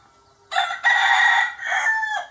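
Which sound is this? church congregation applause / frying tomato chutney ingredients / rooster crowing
rooster crowing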